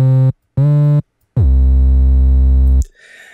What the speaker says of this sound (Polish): Tutaj mamy, słuchajcie, bas.